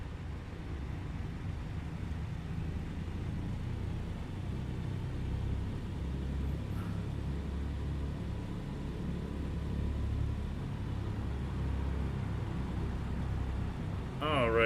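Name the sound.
Douglas DC-3 engines running up to 1,000 RPM in flight simulator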